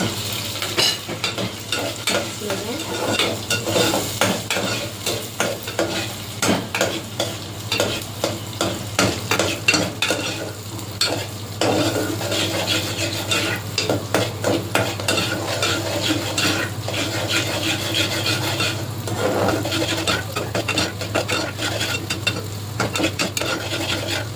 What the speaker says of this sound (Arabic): هحط بقى شوية رز كده، حبة قد كده بس نحمرهم